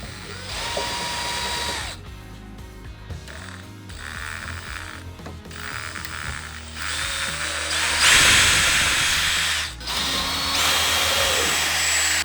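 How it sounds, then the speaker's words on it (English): A power drill whirs in several bursts, revving up and winding down between pauses, close and loud, as the bit pre-drills through the wood of a kitchen cart. "So just go ahead and just take a bit and pre-drill through that."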